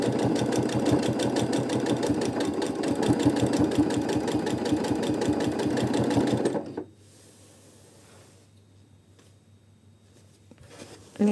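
A domestic sewing machine stitching quilted feather motifs, its needle hammering in a fast, steady close rhythm for about six seconds before stopping abruptly, leaving only a low room hum afterward.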